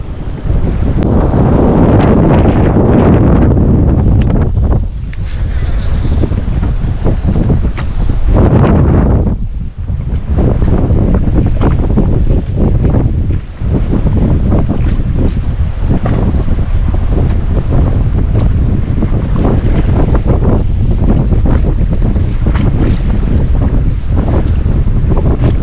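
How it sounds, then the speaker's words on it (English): Strong wind gusts roar steadily across a main lake point during fall bass fishing from a boat, loud buffeting wind noise on the microphone with water lapping beneath, easing briefly a couple of times before surging again. "A lot of wind blowing around it though too."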